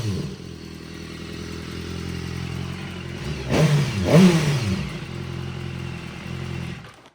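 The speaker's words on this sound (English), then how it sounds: "Got a little bit of an exhaust leak." A 2014 BMW S1000RR motorcycle engine with an exhaust leak and squashed exhaust pipe idles close by, then revs briefly with a rattly, spitting edge before settling back to a rough idle.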